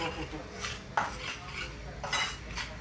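A spoon scrapes and stirs ghee, atta and besan being roasted in a pan, giving a few close metallic scrapes and clinks over a steady background hiss.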